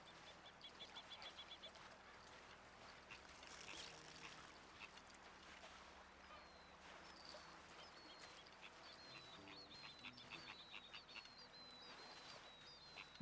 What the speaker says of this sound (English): I don't see a duck, but I hear a duck.